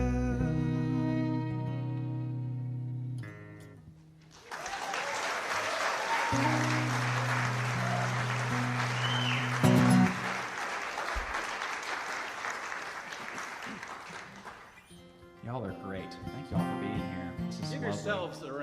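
An audience at a live concert breaks into loud, sustained applause and cheering that carries on for many seconds, with music and a voice heard at the start and end.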